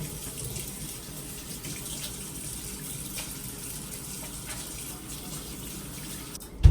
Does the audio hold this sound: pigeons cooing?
no